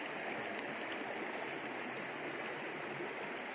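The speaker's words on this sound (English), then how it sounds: "rushing water." The Middle Fork John Day River rushes past among tall pines on a cool mid-August morning in Oregon, a steady, full, close wash of flowing water with no breaks.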